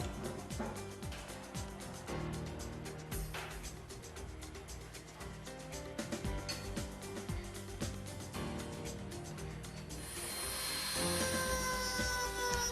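A hot air plastic welder runs steadily as a plastic rod is melted along a crack line, a continuous loud whooshing drone with a harsher, brighter hiss rising toward the end.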